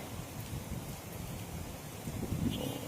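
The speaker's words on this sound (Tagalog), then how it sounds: "lumakas na naman ang ulan" Heavy rain pours down in a steady, dense hiss, continuous and even throughout.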